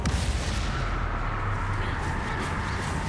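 Booming spell explosions from Bombarda and Confringo in Hogwarts Legacy, fought inside a spider-infested tomb, roll out as a dense, continuous barrage of heavy blasts with no voices on top.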